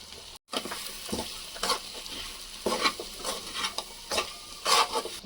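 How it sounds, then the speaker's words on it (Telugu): Ground masala being stirred into village-style chicken frying in a pan, with close, rhythmic scraping strokes over a steady sizzle and no talking. "మనం నూరు పెట్టుకున్న మసాలా వేద్దాం. వేసి బాగా కలిపెట్టేద్దాం."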